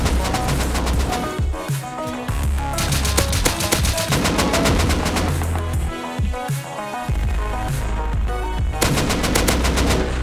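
Rapid bursts of automatic gunfire from the video game Rust, loud and continuous with brief gaps, in long rattling volleys.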